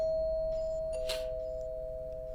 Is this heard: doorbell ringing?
yes